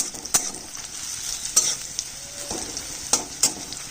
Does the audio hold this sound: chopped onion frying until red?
yes